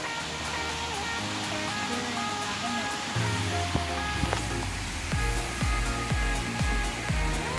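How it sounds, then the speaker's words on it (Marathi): A steady, heavy roar of a waterfall in Chirani village fills the scene, with a melody and dull low thumps layered on top. "फायनली आपण आलेलो आहोत त्या धबधब्याच्या जवळ"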